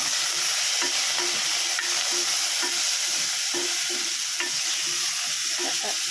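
A spice mixture with coriander leaves is stirred in a hot pan for a simple sambar, giving a steady sizzle with repeated soft scraping strokes of a spoon against the pan. No voices are heard.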